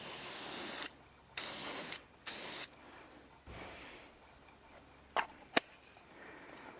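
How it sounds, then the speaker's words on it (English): Three long bursts of aerosol spray hiss as dye is sprayed onto a cracked plastic Toyota RAV4 radiator, about a second each with short pauses between, followed by quieter rustling and two sharp clicks. "So I thought I'd spray some dye on there and see if that shows us anything on plastic"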